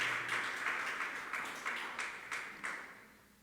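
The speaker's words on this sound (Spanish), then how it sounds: "Recíbalo con una ofrenda de palmas con todo su corazón" A church congregation claps in a steady rhythmic beat, about nine evenly spaced bursts of applause, moderately distant and with no voices over it.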